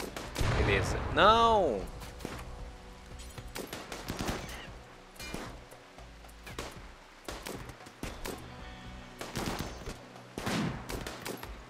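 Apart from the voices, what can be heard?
gunfire in video game Rimworld battle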